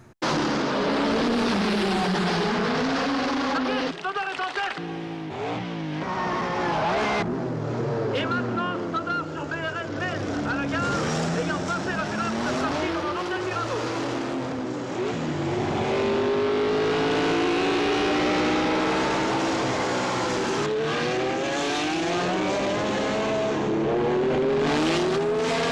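Race cars at Monaco in the 1966 film Grand Prix: dense, loud engine whine rises and falls in sweeping pitch as the cars accelerate and pass, continuous throughout.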